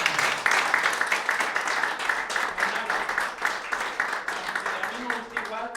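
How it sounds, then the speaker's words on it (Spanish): Audience at an agricultural technical conference breaks into applause, dense clapping that swells and continues steadily, fairly close and loud, with scattered voices mixed in. "para mí un verdadero aplauso,"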